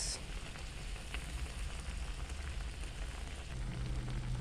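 Noodles sizzle softly in a pan while moringa leaves are stirred in. A continuous fine crackle like light rain hangs at low level with a faint hum under it, and no one talks.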